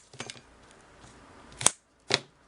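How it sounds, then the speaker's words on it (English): Old wires on a vintage Singer Type A sewing machine foot controller are cut with cutters: two sharp, distinct snips about half a second apart, close by and quiet, after some faint handling. "let me cut these old wires off"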